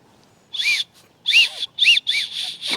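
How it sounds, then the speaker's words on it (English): A small plastic survival kit whistle from an Ozark Trail kit is blown in several short, breathy, high-pitched toots with brief gaps between them, thin and airy rather than piercing. "We've got a whistle here that I guess would work."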